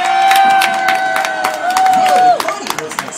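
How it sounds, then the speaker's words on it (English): A party crowd at a Chuck E. Cheese birthday celebration claps and cheers in a busy, reverberant room, steady crowd noise with scattered hand claps and a sustained tone running beneath, fading into looser chatter toward the end. "How about some applause here,"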